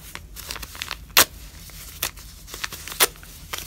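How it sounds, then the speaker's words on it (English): Paper foundation strips are peeled off sewn fabric scrap strips made from calculator tape, giving close, soft crackling and tearing with several sharper pops of paper separating from the seams. "kind of pull this down, paper pops off, slide your finger through."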